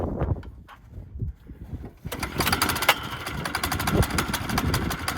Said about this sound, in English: Snowmobile's about to fly past us.